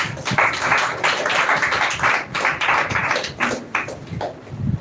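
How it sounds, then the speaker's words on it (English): An audience at a speech competition grand final claps steadily in a dense, moderately loud round of applause that swells and dips with uneven bursts and no talking. "Please again give a huge round of applause for her"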